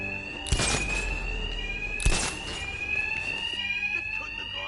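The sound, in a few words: alarm ringing in video game Batman Arkham Knight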